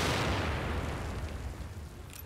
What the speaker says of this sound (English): You just shot the bomb.